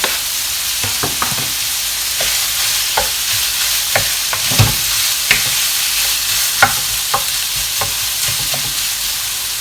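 Red onion frying in a pan for a bolognese sauce gives a loud, constant close sizzle, dotted with light taps and clinks of stirring.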